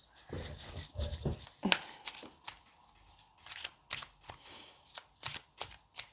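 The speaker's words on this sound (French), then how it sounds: "Tu vois quand je mélange les cartes, tu vois pas bien." A deck of cards is shuffled close by, giving quiet riffles and soft flicking snaps in uneven bursts over faint background hiss.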